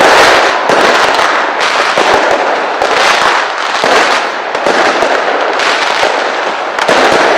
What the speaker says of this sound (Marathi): काही फटाक्यांची आतषबाजी आहे.